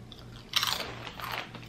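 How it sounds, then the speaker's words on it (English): Close, crisp crunching and biting of kettle-cooked, dairy-free queso-flavored potato chips, with a few sharp bursts of chewing over a quiet background and no talking. "these dairy-free queso potato chips by the brand Siesta. These are kettle cooked."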